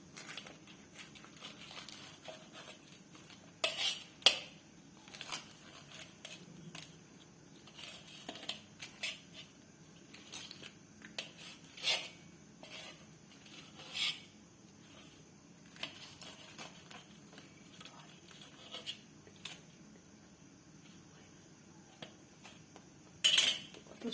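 A knife cuts a fried Mughlai paratha on a plate, producing sparse, quiet clinks and scrapes of metal on the dish at irregular intervals over a faint, quiet background.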